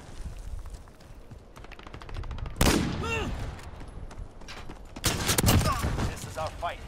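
Shotgun blasts in Call of Duty: Modern Warfare ring out in loud, sharp bursts amid rapid gunfire, with a heavy volley about two and a half seconds in and another dense cluster near the end, with ringing clinks in between.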